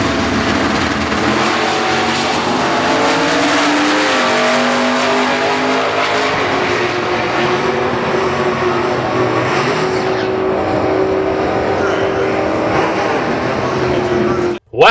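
A third-generation Chevrolet Camaro and a Ford Mustang drag race, their engines roaring loud and close with sustained high revving and gear changes, mixed with crowd noise, before cutting off abruptly.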